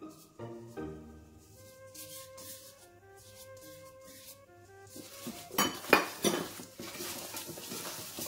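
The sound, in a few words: stirring lamb with thyme and mustard in a dish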